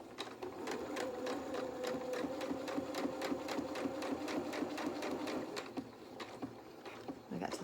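A sewing machine runs a quick, even rhythm of stitches along a doll's jeans pocket, needle strokes ticking steadily for several seconds before easing off near the end.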